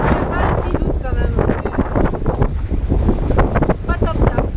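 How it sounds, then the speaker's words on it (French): Gusty wind buffets the microphone aboard an electric catamaran out on the water, a loud, rough roar that runs the whole time, with a person talking over it. "Il y a un vent quand même assez frais"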